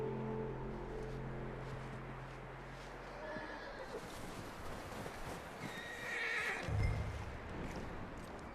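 A horse whinnies loudly up close, then hooves clip-clop and shuffle while a low rumble fades out in the background.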